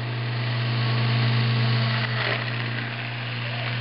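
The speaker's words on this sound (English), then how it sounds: "After I grind the last of them" A food processor grinds almonds into almond butter, giving a steady, droning motor hum with a constant pitch that runs unbroken and alone.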